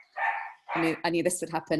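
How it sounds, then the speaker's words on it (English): A pet dog barks in the background of a home, a quick run of several sharp barks following a brief spoken line, fairly faint behind the nearer voice. "You can hear my dog's barking"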